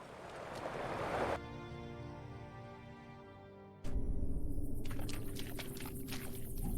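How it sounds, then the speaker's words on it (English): Rushing waterfall in Lord of the Rings Online, a broad continuous roar of water that shifts abruptly to a louder, nearer rush with faint tapping footsteps over it. "The entrance is right behind the waterfall."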